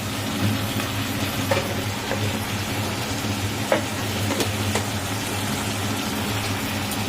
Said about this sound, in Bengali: এবার এটাকে একটু ভাজা ভাজা করে নিচ্ছি